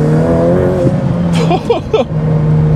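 A Ferrari F8 Tributo drifting on track, its engine revving loud and close with a gear change mid-slide, then falling away in short uneven bursts.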